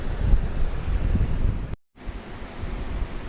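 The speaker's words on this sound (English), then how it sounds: "very windy, very strong conditions. Waves are quite rough." Rough sea surf with strong wind buffeting the microphone, a steady loud roar of breaking waves broken by a brief dropout near the middle, no voices.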